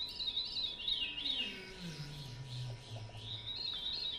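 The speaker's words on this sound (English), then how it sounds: "This bird is named after this sound, which is a veerying kind of sound." Veery song outdoors, with high thin notes and a descending whistled phrase sliding down in pitch, fairly faint against background ambience.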